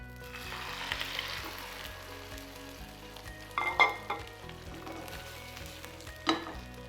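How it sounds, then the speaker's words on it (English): An egg tortilla fries in a little oil in a pan on its second side, giving a steady close sizzle with a few louder crackling spurts. "slide your egg so that it cooks on the second side"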